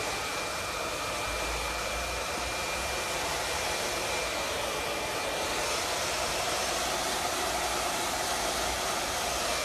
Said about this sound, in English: now we're just gonna move the diffuser and the hairdryer all around